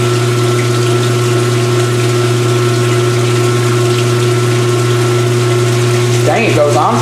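A 2022 Speed Queen C Series washer on a heavy duty cycle sprays water during its rinse, giving a loud, steady whirring hum with constant rushing water that runs unbroken throughout, with a brief stir of sound near the end.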